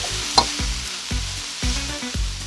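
Peppers, onion, garlic and scallions stir-fried in a hot pan for a beef pepper steak, with a steady sizzle broken by repeated scraping stirs and clanks about every half second, close and fairly loud, with no talking.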